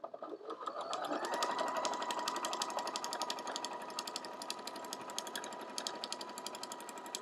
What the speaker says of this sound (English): You would just sit there and sew.